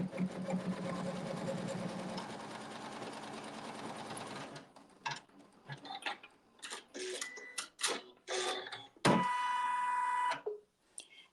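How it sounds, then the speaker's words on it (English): A sewing machine sews a tack down stitch on quilting fabric: a steady close motorised whir for several seconds, then scattered clicks and knocks, and a second short burst of stitching near the end. "it's going to sew a tack down stitch"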